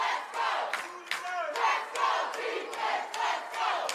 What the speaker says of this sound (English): This crowd coming alive in the closing minutes.